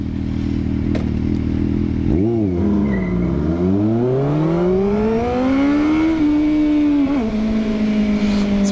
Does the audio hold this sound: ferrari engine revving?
yes